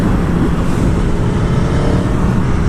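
An Aprilia motorcycle, an 1100 RSV4 or Tuono, cruising on the highway in fourth gear at about 4,000 RPM gives a loud, steady engine drone mixed with heavy wind rush, close and continuous.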